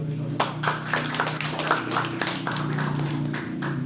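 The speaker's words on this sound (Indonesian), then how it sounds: "Aplaus dulu." Audience at a film discussion event in Pamekasan clapping, a modest round of separate, irregular hand claps from a small crowd in a room.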